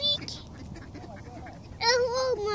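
Ducks quack on a cool, windy afternoon, a few scattered calls early on, then a louder burst of quacking near the end, with a nearby voice talking.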